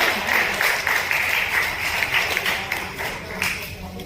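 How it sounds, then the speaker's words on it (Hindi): Audience at an honorary doctorate award ceremony breaking into applause, dense clapping that swells and then gradually thins out. "एक बार जोरदार तालियां हो।"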